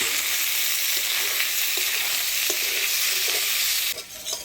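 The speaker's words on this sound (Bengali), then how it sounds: "আলু ফুলকপি দিয়ে মশলার সাথে ভালো করে নাড়াচাড়া করে নিলাম।" Potato and cauliflower pieces are stirred with spices in a hot pan, a steady close sizzle with soft scraping strokes throughout and a brief louder scrape near the end.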